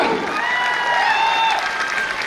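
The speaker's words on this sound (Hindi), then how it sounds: "ताली होनी चाहिए तो शानदार होनी चाहिए, लगना चाहिए कि यहाँ लोग बैठे हुए हैं" Audience at a seminar in Varanasi breaking into sustained, dense applause that fills the room evenly from start to finish, loud and continuous with some crowd noise mixed in.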